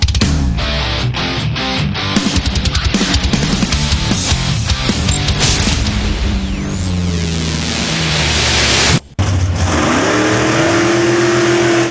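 A Corvette engine revs hard and loud, repeated rising and falling bursts of mid-range roar that climb into a sustained high whine, broken by one brief cut near the end.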